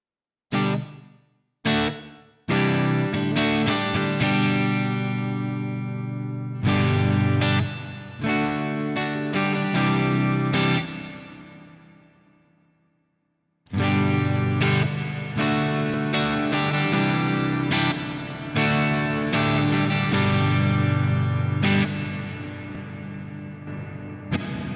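Close, sustained chords and notes from an Enya Nova Go Sonic electric guitar through a clean amp with reverb, washing into long decaying tails, with a brief pause midway and no voices.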